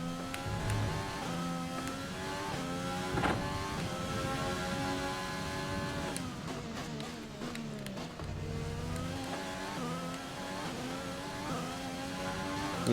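An F1 race car engine in F1 2020, driven in the rain in Canada, revs as a steady high-pitched whine that rises and falls with throttle and gear changes, loud and continuous throughout.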